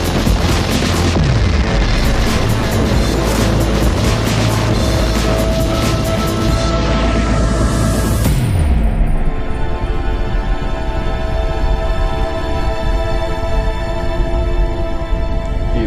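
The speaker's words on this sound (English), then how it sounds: "We have liftoff." A rocket lifting off: a massive continuous roaring rumble, loud and broadband, with a sweeping shift midway as the sound changes, sustained for the whole stretch without speech.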